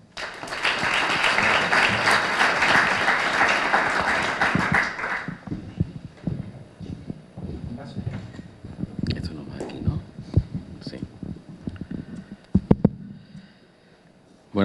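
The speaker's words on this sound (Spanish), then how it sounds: "Juan Antonio García Galindo, un fuerte aplauso para él." Audience at a public presentation in a hall gives a loud round of applause that fades after about five seconds, followed by scattered claps, shuffling and murmuring.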